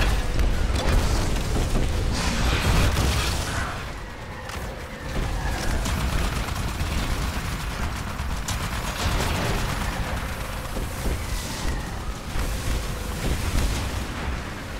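Automated turrets in the Titanfall Frontier Defense game fire continuously, a dense, loud mechanical barrage with booming impacts that holds steady for the whole stretch, with no voices over it.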